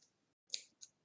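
Scissors snip through fabric along a marked line for a rounded-pocket bag, two short crisp cuts close by after a moment of quiet, with no talking.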